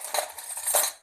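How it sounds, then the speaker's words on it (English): Ragi dosa batter being stirred in a bowl, giving two short clinks and scrapes of a spoon against the vessel, close and fairly quiet. "Mix it well."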